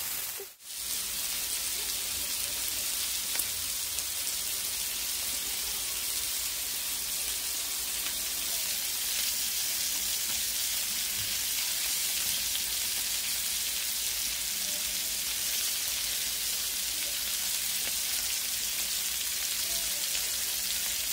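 Bacon-wrapped hot dogs frying in a pan over medium-high heat, giving a constant soft, even sizzle like light rain that runs unbroken after a brief clatter at the start.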